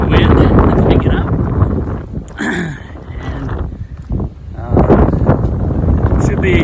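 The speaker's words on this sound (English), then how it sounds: "So, yeah, you hear the wind, it's picking up." Gusty wind rises along the Appalachian Trail, buffeting the microphone in loud, rough rumbles that ease and swell again, with a voice briefly heard through it.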